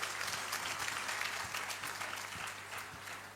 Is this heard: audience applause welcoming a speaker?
yes